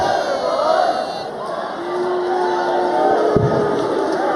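Darts crowd at the 2019 Grand Slam of Darts final cheering and chanting in support of Gerwyn Price, a dense, steady roar of many voices filling the arena, with a sharp whistle rising over it partway through.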